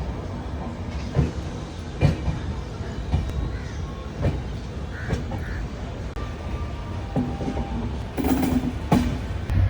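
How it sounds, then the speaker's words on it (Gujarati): Gandhidham–Bandra superfast train running after leaving Ahmedabad, a steady rolling rumble heard from inside with faint clickety-clack of wheels and occasional brief squeals, continuous and moderately loud. "આપણી આ જે ટ્રેન છે તે અમદાવાદથી રવાના થઈ ચૂકી છે બાંદ્રા ટર્મિનસ તરફ"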